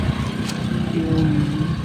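Vehicles passing over a bridge on a quiet day with light traffic, a continuous low engine rumble with a passing motor drone, close and fairly loud, no voices.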